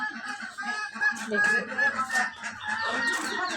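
Chickens and geese walking about, with close clucking and honking calls in a loose irregular series, and a voice talking briefly over them.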